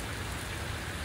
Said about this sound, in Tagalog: Yung lang nag-pour yung ulan.